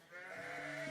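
A single sheep or goat bleats once in a desert herding setting, a short wavering cry heard faintly at a distance.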